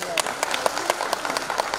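Clapping breaks out from an audience at an airport stand-up comedy show to greet a new Nepal Airlines plane. The claps are scattered and irregular, sitting under a busy murmur of voices.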